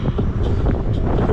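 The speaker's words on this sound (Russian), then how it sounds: "Капец тут ветер" Strong wind buffets the microphone on a hilltop in Crimea, a steady loud roar across the whole moment with gusty surges and no voices.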